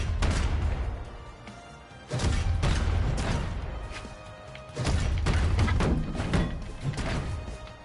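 Heavy cannon hits from a Brawlhalla combo of down airs and dash attacks land as loud, booming thuds and crashes. They come in a few big bursts with a dense, continuous rumble of game effects between them.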